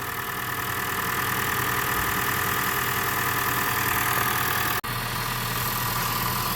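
Honda Vezel engine idling steadily while its injectors are flushed with BG 210 cleaner, a constant close hum with a brief dropout partway through, with no one speaking.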